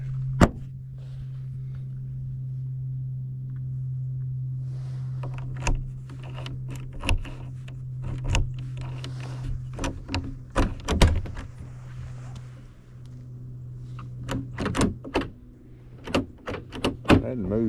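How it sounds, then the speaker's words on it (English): Frozen door on a barn being worked open and shut in winter, with repeated sharp knocks and thunks in an irregular rhythm over a steady low hum, close by. "And I'm gonna get the door too."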